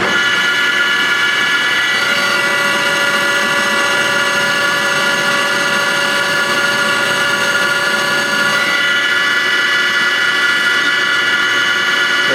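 A metal lathe taking a facing cut drones continuously with a steady high whine and hiss, loud and unbroken throughout with no talking.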